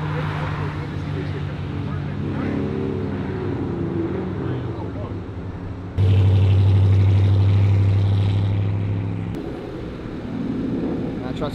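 A Ford Mustang pulls out of a car meet, its engine rumbling nearby and then surging louder for a few seconds before easing off, with people talking over the noise.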